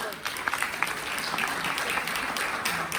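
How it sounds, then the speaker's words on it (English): Applause from the audience at a national conference, a dense, even patter of clapping that stays fairly quiet and steady throughout, with faint voices underneath. "A huge round of applause for this."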